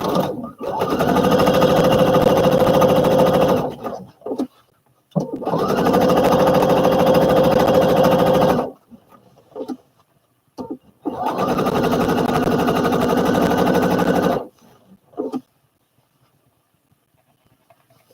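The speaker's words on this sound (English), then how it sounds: "I'm going to stitch around this pocket." A sewing machine stitching around a pocket for a Simplicity 8855 garment runs in three long, steady buzzing bursts of about three to four seconds each, with short pauses and small clicks between them. It is close and loud, with no talk.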